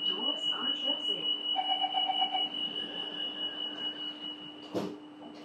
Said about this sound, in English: Doors are closing.